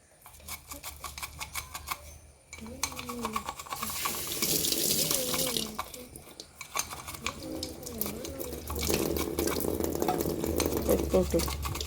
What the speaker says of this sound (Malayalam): പൈപ്പ് പൊട്ടിക്കേ.